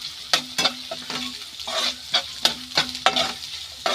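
Finely chopped onion sautés in a pan for a spicy Schezwan chicken, a steady sizzle broken by repeated scraping stirs of a spoon against the pan every half second or so, close and alone.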